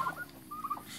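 Chickens clucking in a short burst of repeated calls at a Lao-style garden or farmyard, fairly close and clear, with no talking.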